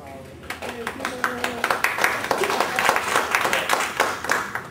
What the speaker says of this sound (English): you get a round of applause before I even just give your bio